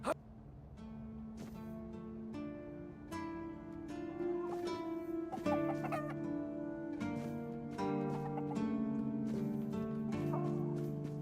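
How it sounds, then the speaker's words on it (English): Chickens clucking in the video game Tainted Grail: Fall of Avalon, heard as scattered soft clucks over a steady musical game backdrop, fairly quiet throughout. "Random chickens."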